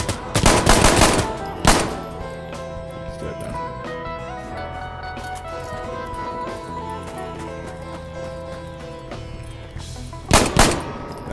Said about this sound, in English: Oh, I shot him in the head twice.